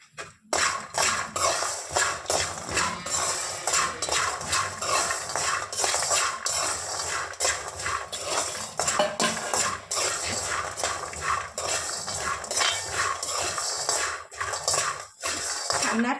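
Peanuts stirred while frying over a low flame, producing continuous rapid rattling and scraping of a utensil in a metal pan, close and fairly loud throughout, with a brief pause near the end.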